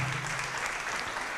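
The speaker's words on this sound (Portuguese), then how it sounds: "Vamos aplaudir" A church congregation claps steadily, a dense wash of applause filling a large room.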